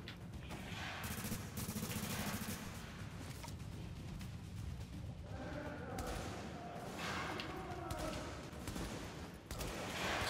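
Gunfire in The Division video game, dense rattling bursts of shots over a loud continuous wash of combat noise throughout.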